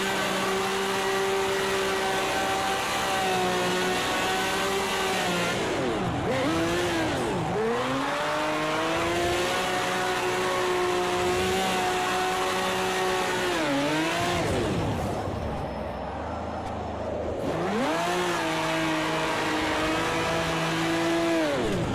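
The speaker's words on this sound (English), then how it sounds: "So we're spinning the wheels up." A race car's engine in Project CARS 2 with a drift mod revs hard and continuously while the wheels spin, its pitch sweeping down and back up several times, loud and close with no talk.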